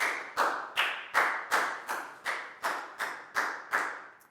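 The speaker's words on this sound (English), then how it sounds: "High five and a big round of applause for Pangpon, please, guys." Pupils in a Year 4 maths class clap in unison, about ten sharp, evenly spaced claps in a steady rhythm, close and clear, with no talking.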